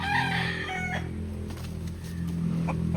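A rooster crows loudly and close by on a Filipino farm, one drawn-out call over steady background hum, with a few short clucks and clicks following.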